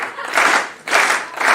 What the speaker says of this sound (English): Dijak just trying to get the crowd are clapping with Dijak